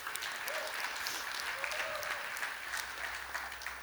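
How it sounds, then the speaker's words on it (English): Steady applause from a crowd at a crypto data conference keynote, DuneCon 2024, many hands clapping in an even, fairly soft roar with faint voices and a brief whistle-like tone mixed into it. "Round of applause, please."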